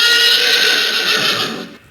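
A horse whinnies loudly and up close in one long, shrill neigh that fades out toward the end, with no talking over it.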